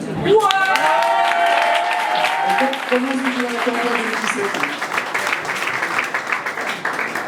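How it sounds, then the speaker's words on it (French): A crowd at a fifth-anniversary celebration for La Cordée bursts into applause, a loud, dense patter of claps with a few cheers that gradually thins out while voices and chatter rise over it. "On va un peu l'applaudir"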